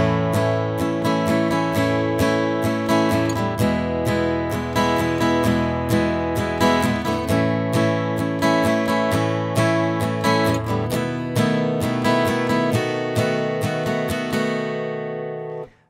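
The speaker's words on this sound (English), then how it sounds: "that's the first eight bars with the same strumming pattern" An acoustic guitar strums the first eight bars of a song in a steady, even pattern, loud and alone, with the last chord left to ring out.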